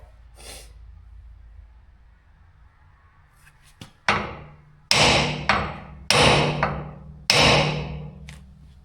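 After a quiet stretch, a series of hard hammer blows rings out on a metal part of a Minneapolis Moline U302 diesel tractor axle, several sharp strikes spaced about a second apart, close and loud.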